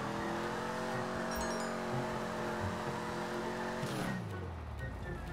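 Engine of a modified stolen car in the video game GTA 5, revving steadily as it drives, with the pitch dropping sharply near the end and a brief tire squeal.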